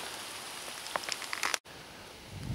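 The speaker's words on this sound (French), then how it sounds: "Il pleut." Rain falling at a bivouac beside a pond on a hot day: a steady, soft hiss of drops with scattered closer patters, a brief dropout in the middle, and a low rumble near the end.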